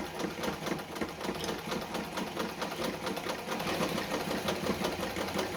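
A Singer 237 Fashionmate sewing machine stitches a narrow zigzag in a continuous, rapid mechanical whir with a fast steady clatter, running alone at a constant pace without talk.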